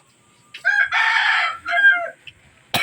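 A rooster crows nearby in one long, loud call, breaking into a second rising phrase, followed by a short sharp noise at the end.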